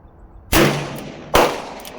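Two sharp, loud shots from a 40-year-old Ruger GP100 revolver fired single action, close up, under a second apart, each decaying into a short ringing echo.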